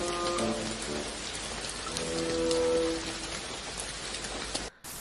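Heavy rain falls steadily in a broad, dense wash that holds an even level throughout, with faint tonal sounds near the start and a brief dip just before the end. No one speaks.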